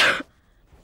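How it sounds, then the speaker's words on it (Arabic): A single short cough sounds close by, then quiet follows. "انت جاش كحة؟"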